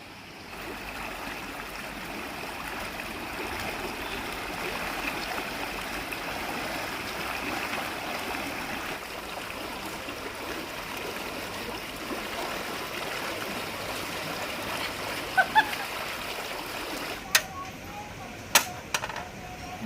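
Steady river flow along a bank during outdoor cooking, a continuous soft broadband rush of water throughout, with a few sharp clicks near the end.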